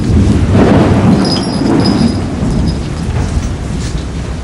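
A thunderstorm with low rolling thunder and steady rain, loud and close, continuing throughout without any voices.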